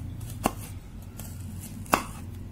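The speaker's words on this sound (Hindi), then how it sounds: "मैं आपको चॉप करके भी दिखाती हूँ" Two separate knife chops from a Pigeon steel knife cutting food on a board, each a sharp, close, fairly loud strike, spaced well apart over a quiet background.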